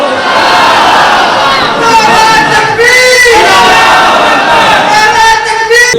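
A large crowd chants slogans in unison at a religious speech gathering, a loud, steady massed roar of many voices rising and falling in waves throughout.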